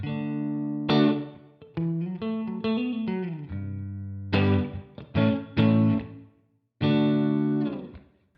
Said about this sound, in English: I just tried to get a fairly clean amp sound with just a touch of reverb